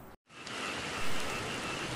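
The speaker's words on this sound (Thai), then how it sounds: "ฝนตกครับพี่น้องเดี๋ยวสิออกพาไปหากบหาเขียดกันเนาะ" Steady rain falls at night over a rural area, a dense even hiss filling the whole stretch after a brief cut near the start, with no voices.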